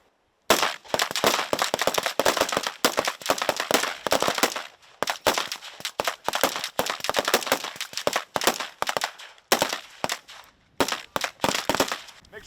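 Service rifles fire in rapid, dense volleys during a standing and kneeling shooting drill at a military exercise, sharp cracks overlapping with brief pauses throughout, loud and close.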